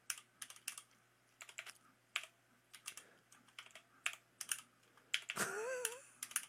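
Code is typed on a computer keyboard in close, faint bursts of clicks with short pauses between them. Near the end a brief voiced sound rises over the typing.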